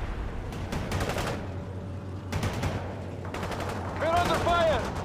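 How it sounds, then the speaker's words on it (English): Gunfire bursts in the video game World in Conflict, with loud broadband volleys clustered in several repeated salvos over a steady battle rumble, while voices talk underneath. "We're under fire!"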